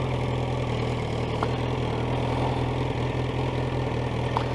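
A Yamaha FZ1-N motorcycle sits idling through a cheap aftermarket end-can exhaust, giving a steady, close, even low rumble that holds for the whole stretch with no revving and no talk.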